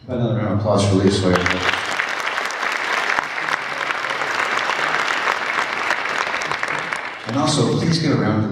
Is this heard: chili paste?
no